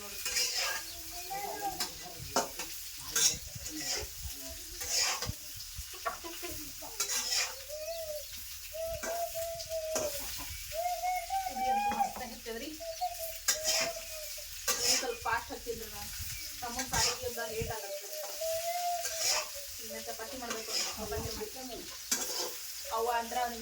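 Ridge gourd frying with garlic in an oiled pan, a steady close sizzle with repeated stirring scrapes and utensil clinks throughout, birds chirping faintly in the background.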